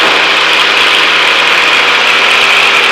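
A Cessna 152 single-engine aircraft throttled back in slow flight, its engine a loud, steady droning hum heard from inside the cabin, continuous and unbroken with no talk.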